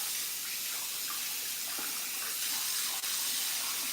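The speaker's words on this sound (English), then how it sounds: "Now I'm gonna rinse this off" Running water at a bathroom sink as a face is rinsed during a nighttime skincare routine, a steady close broadband wash with faint splashes and no talk.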